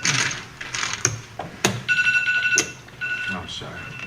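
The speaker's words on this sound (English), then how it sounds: "It's an alarm for his heater to start." An electronic alarm for a heater starting rings in repeated bright beeps at a poker table, sounding over lively chatter, chip clicks and table noise.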